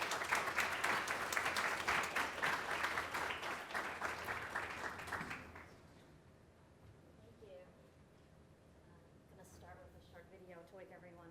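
An audience at a food conference keynote applauds steadily for about five seconds, dense and sustained, then the clapping fades into a quiet room where a voice begins speaking.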